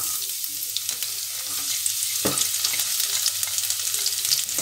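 Chopped garlic sizzles in hot oil in a pan while being sautéed for aloo palak, a steady, close frying hiss with faint stirring scrapes and a sharp clack partway through.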